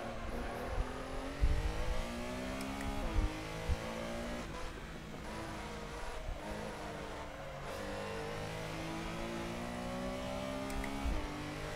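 A Porsche Carrera Cup race car engine in a sim racing game, revving hard and climbing through the gears in repeated rising sweeps, each cut short by a quick shift before building again, steady and close with no talk.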